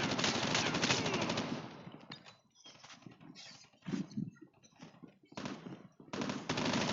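Call of Duty gameplay brings rapid automatic gunfire in dense bursts at the start and end, with sparser single shots and quieter stretches in between.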